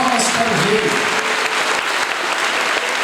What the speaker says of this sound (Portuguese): dá uma salva de palmas bem forte para o Rei da Glória